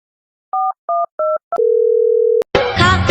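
Phone call being placed: three short dialing beeps, then a steady electronic tone for about a second, then a sharp click and a burst of noisy, bright sound, all close and clear.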